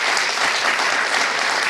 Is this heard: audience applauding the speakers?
yes